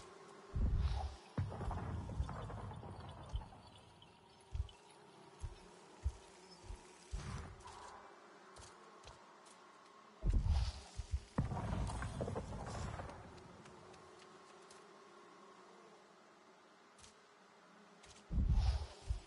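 Insects buzz around a fallen hive in the forest of the video game Avatar: Frontiers of Pandora, in an intermittent hum broken by heavy thumps and rustling footsteps.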